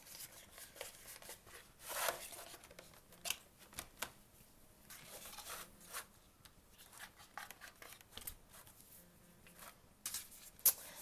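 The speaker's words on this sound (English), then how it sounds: "Let me peel off the rest of this orange." Cut orange fondant pumpkins are peeled off a Cricut cutting mat, giving soft crackling, zipper-like tearing sounds in irregular bursts close by, with no one speaking.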